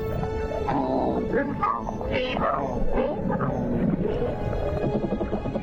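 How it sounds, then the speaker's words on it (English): Grunting, growling underwater calls of fighting cichlid fish, dense and overlapping, loud and continuous throughout. "A dispute amongst the members of the cichlid family. Who is stronger, and especially who is louder?"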